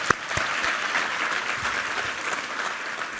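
A church congregation at a Sunday worship service applauds in praise. Full, dense clapping from many people starts with a few sharp claps and then settles into a steady, even roar that carries through to the end without speech.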